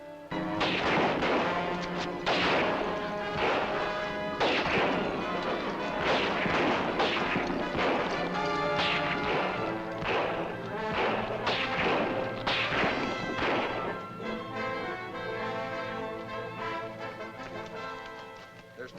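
A volley of gunfire from several rifles rings out in a dense series of loud, sharp cracks and thuds, repeated steadily for many seconds with a reverberant tail and no talk.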